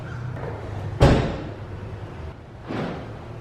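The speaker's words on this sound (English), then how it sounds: "Let's close the door and let's see if it turns off with the door light." A BMW E46 car door is shut with one solid, close slam followed by a fading rattle, and a softer second thud about two seconds later.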